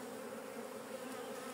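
Honeybees swarm loudly around an opened hive during a colony inspection, a dense steady buzzing drone that holds without a break, close to the microphone.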